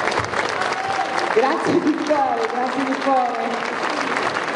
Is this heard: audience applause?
yes